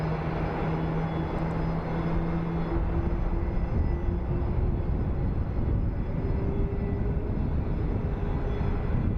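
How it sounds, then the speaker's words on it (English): An MD-11 turning on the ground at Phoenix Sky Harbor gives off a steady engine drone with a faint whine, constant and moderately loud throughout, with no talk over it. "MD-11 is turning to arrive"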